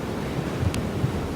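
A steady roar of wind during a blizzard in northern Illinois, broadband and rough across the whole stretch, with a brief gust rising near the middle and no talking.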